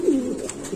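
A Lahori pigeon at a fancy pigeon farm gives one short, low coo close by, with faint background noise and no talking.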